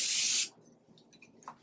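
Aerosol cooking spray hissing onto a cake pan in one close, steady burst of about half a second, followed by quiet room noise.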